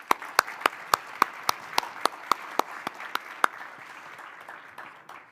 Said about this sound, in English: let's give the speakers a round of applause